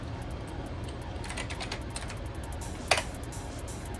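Fast, light keystrokes patter on a computer keyboard in quick irregular bursts, with one sharper clack near the end over a steady low room hum.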